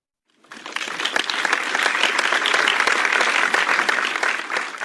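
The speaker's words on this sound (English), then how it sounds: "a big round of applause for their efforts so far on the ongoing 300 days challenge" A big round of applause from an online meeting or presentation audience, starting abruptly and holding steady as a dense, loud wash of clapping.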